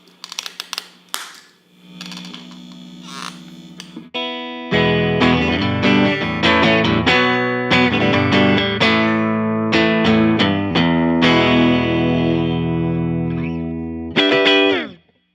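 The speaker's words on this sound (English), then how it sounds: "I'm running through a Squier Telecaster, then through the pedal, and then into my Fender Blues Deluxe, and then mic'd by an SM57" Clean Squier Telecaster played through a Fender Blues Deluxe amp and miked with an SM57: a few scratchy string noises and single notes, then a run of bright, ringing chords and melodic lines, ending with one more strum. No speech.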